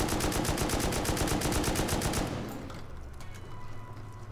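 An M249 light machine gun fires in the survival game Rust. A fast, loud, unbroken automatic burst rattles for about two seconds, then cuts off, leaving a quieter low rumble.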